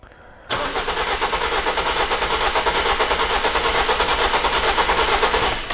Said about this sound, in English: now I'm gonna crank the engine